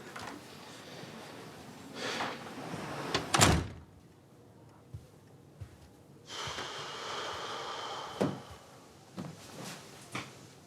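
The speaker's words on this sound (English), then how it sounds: "Shut the door." A door swings shut with a loud, sharp thud in an office setting, standing out once among quiet room tone, soft rustles and a few fainter knocks, with no talking.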